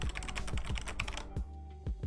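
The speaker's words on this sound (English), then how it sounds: "Was I tapping the keyboard too hard for you guys?" Computer keyboard tapped in quick, uneven bursts of sharp clicks, close and fairly loud, with a brief pause before a final couple of keystrokes.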